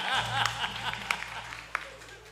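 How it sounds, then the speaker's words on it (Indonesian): Audience applause at a live dance exam performance with karawitan gamelan ensemble, a steady spread of clapping from a crowd with a low sustained hum beneath, a few sharper claps standing out. "Tepuk tangan untuk karawitan dari berbagai wilayah se-Indonesia di sana."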